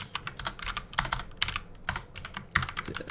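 Rapid typing on a computer keyboard while writing code, a close, steady stream of crisp key clicks with a few brief pauses and no voices.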